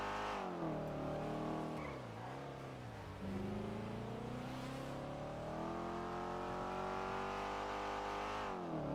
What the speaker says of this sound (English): Listen to that shit car.